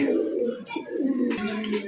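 Lahori pigeons, a top-quality pair offered at a bird market, coo in low rolling murmurs close by, a steady throaty burble that runs throughout with a brief brighter rustle near the end.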